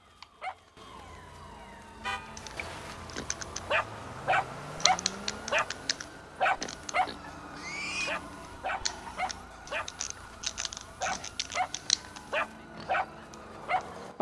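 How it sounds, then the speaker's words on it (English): Dog in Grand Theft Auto barking repeatedly in sharp, evenly spaced yaps over steady game ambience, loud and near, with no talk over it. "that dog's annoying"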